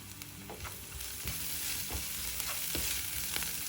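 Chili powder and turmeric are stirred through a sizzling pan for a cabbage and egg fry, with soft spoon scrapes repeating about every half second over a steady, quiet frying hiss.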